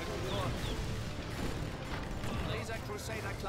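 Enemy gunfire in a video game, a dense stream of booming shots and mechanical clatter filling the whole span, with a voice talking over it.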